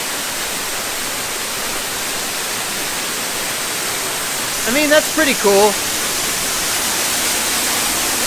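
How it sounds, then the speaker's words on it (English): Steady broadband rush of a waterfall at the Canada pavilion at Epcot, a constant wash of falling water throughout, with a few brief spoken words partway through. "Instead of going this way to the caves, we're going this way to the waterfall."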